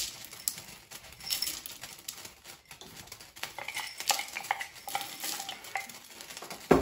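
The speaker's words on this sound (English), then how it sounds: "So you're gonna keep this on heat and stir it until it's completely melted." A spoon stirs 6 ounces of chocolate and 3 tablespoons of butter melting in a double boiler over hot water. Close, quiet scraping and soft clinks come in an irregular rhythm with no talking.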